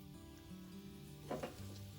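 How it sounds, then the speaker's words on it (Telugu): Soft crackling sizzle of dried red chillies, chana dal, urad dal, mustard seeds, cumin and curry leaves frying in hot oil, with a brief louder burst of spattering midway, steady and close. "కరివేపాకు వేసి వేయించుకోవాలి"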